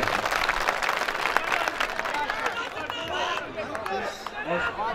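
At a mushaira poetry gathering, an audience breaks into applause, a thick wash of clapping mixed with crowd chatter and voices that thins slightly midway and then continues.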